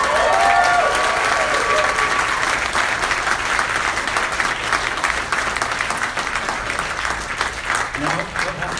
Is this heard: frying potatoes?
no